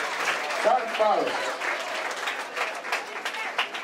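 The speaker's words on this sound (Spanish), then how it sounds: "Aplauso grande para esta batalla." An audience breaks into dense, sustained applause right after a 2vs2 written rap battle, the clapping loud and close with a voice speaking over it.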